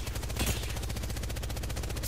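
Rapid automatic gunfire from Apex Legends rattles nonstop in an even, fast rhythm, loud and close, with no talk over it.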